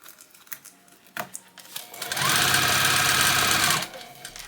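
A sewing machine stitching textured vinyl with a lengthened stitch, running in one steady burst of about two seconds after some faint handling sounds, then stopping.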